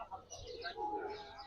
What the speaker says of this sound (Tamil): ஆல் ஒயிட் கலர் புறா.